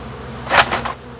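Bees buzz behind a clothes dryer: a low, faint hum underneath and a short, louder burst of buzzing and scraping near the middle.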